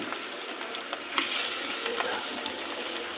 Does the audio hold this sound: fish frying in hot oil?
yes